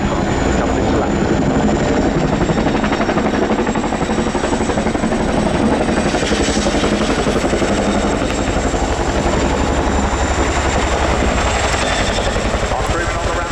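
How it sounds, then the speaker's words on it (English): RAF Chinook HC6 twin-rotor helicopter coming in to land at an air show, a loud, continuous, close-up rotor thump and turbine whine that holds steady throughout with no pause. "monitoring the height of the aircraft as it comes into land"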